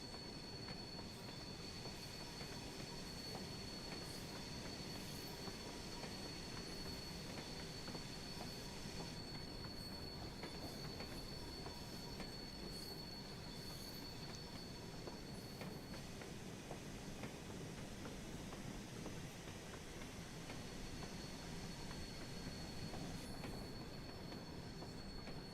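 Steam train shunting in Train Sim World, a steady rolling rumble of wagons with sustained high wheel squeal and faint clicking over the rails, continuous and even throughout.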